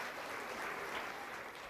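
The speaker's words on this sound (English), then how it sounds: "another round of applause for the babies getting up this morning" Steady audience applause fills a hall at a Martin Luther King Jr. birthday celebration, a dense continuous patter of many hands clapping at moderate volume, no voices over it.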